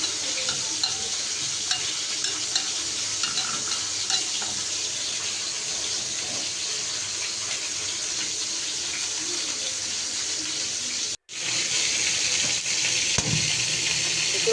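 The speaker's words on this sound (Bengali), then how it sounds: "আর এই তো আমার এই যে মুরগিটা ভাজা হচ্ছে" Chicken fries in a pan for a chicken roast dish, giving a steady close sizzle with stirring and scraping throughout, broken by a brief gap near the end.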